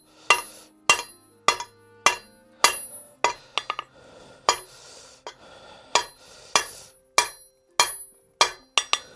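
Hammer blows ring on hot steel worked over the edge of an anvil while forging a Skyrim-style axe, with about fifteen sharp metallic strikes in a steady rhythm, some quick double taps, close and loud with no talk.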